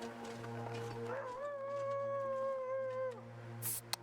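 A wolf howls in The Long Dark survival game, one long rising and sustained wavering cry lasting about two seconds over a steady low wind drone, ending with a brief click.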